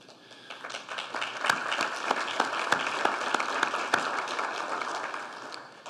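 An audience at a police fallen officers memorial tribute claps steadily, many hands close and distinct, swelling in the middle and easing off toward the end.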